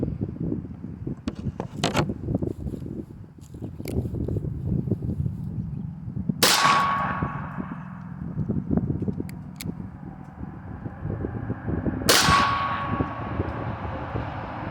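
Two sharp, loud gunshots ring out about six seconds apart over a chronograph at an outdoor shooting spot, each with a short ringing decay, over steady wind noise and faint clanks.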